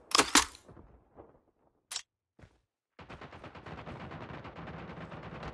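Call of Duty Mobile battle royale on Alcatraz: sharp metallic magazine-change clicks and clacks, followed by sustained rapid gunfire rattling close and loud.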